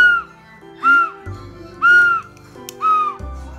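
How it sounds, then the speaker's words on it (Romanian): A boy whistles indoors while a Christmas tree is being decorated, producing a few short, close, bright notes with pauses between them and low household sounds underneath. "Cum fluieră băiatul?"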